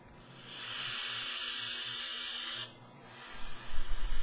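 A STRO mini RDA vape is puffed in one long inhale, a loud steady airy hiss that lasts about two seconds and cuts off sharply, followed by a few soft low breathy exhale thumps.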